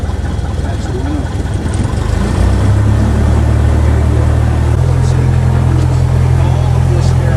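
An aircraft engine rises from idle to a steady, loud, low drone as it is run up to 1,000 RPM before flight, stepping up in pitch partway through.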